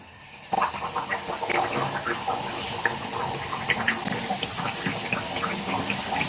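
Besan laddu mixture frying in hot oil, a steady broadband crackle and bubbling that holds evenly with small pops scattered throughout, close and fairly loud, with a voice speaking over it at times.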